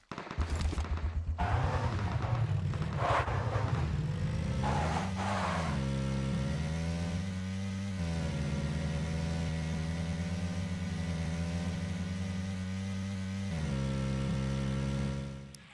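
Racing car engines from the Asphalt 9 Legends mobile racing game, a loud sustained engine drone with revving surges and pitch shifts early on, settling into a steady high roar, with no talk.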